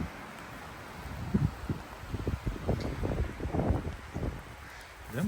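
Gusty mountain wind in the Carpathians buffets the microphone in low rumbling bursts, with faint rustling in the background.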